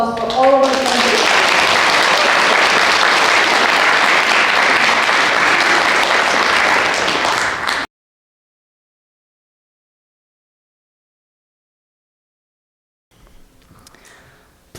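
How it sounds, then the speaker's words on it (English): An audience at a speech competition finals for 7-8 year olds claps in sustained, dense applause for about eight seconds, then the sound cuts to silence before a faint murmur returns. "Let us all give another round of applause for all of our presentations."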